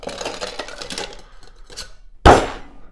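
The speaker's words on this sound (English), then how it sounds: "In goes the ice." Ice cubes are dropped into a cocktail shaker while mixing a Pornstar Martini, giving a run of close clinks and rattles followed by a sharp, loud clattering crash, with no talk over it.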